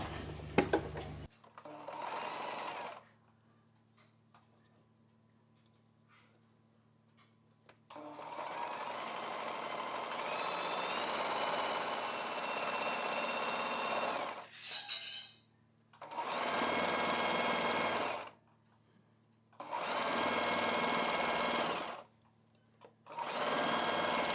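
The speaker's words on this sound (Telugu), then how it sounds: "ఈ పీస్ని ఇలా డబుల్ ఫోల్డ్ చేసేసుకొని ఈ చివరన కుట్టు వేసుకోవాలి" A sewing machine stitches along the edge of a double-folded cross piece of fabric for a maxi dress, whirring close and steady in one long run and then three shorter bursts separated by brief pauses, with no talking.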